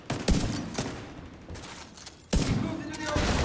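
Gunfire in The Division 2: several sharp, loud shots in separate bursts, with a heavy pause mid-clip before another cracking volley, while a voice talks underneath.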